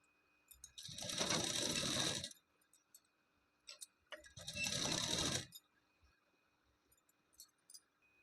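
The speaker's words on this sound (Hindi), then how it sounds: "इसकी गोलाई देते हुए इसी तरह से हमें सिलाई लगाते जाना है।" Sewing machine stitching a blouse belt, in two steady bursts of a couple of seconds each, with quiet handling clicks between them and no talk.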